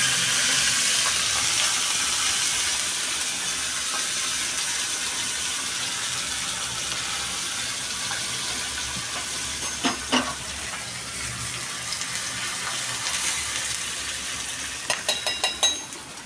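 Mustard seeds, curry leaves and asafoetida sizzle in hot oil as a tempering for uttapam batter, a steady close frying hiss with sharper crackles and pops toward the end.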